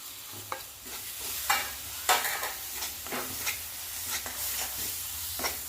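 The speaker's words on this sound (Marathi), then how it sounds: "मसाले मिक्स करून घेऊया थोडंसं भाजून घेऊया" Masala with fresh milk cream roasts for dhaba-style shev bhaji, stirred in a pan: repeated scraping spoon strokes over a soft, continuous frying sizzle, close and fairly quiet.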